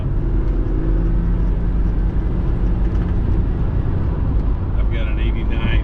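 A 1987 Buick Grand National rumbles along on a test drive, giving a loud, steady low engine drone and road noise from inside the car, with a brief higher whine near the end.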